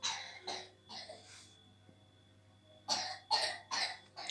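A child coughs in two bursts, a quick cluster of harsh coughs, a pause of near quiet, then another run of coughs, close and fairly loud.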